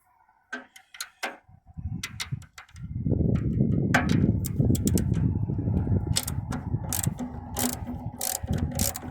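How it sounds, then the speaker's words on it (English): Ratchet working loose a nut on a Yamaha FZR1000 motorcycle, a few sharp clicks first, then a fast continuous clicking ratchet run, close and clear with no talking. "Let's get that nut off."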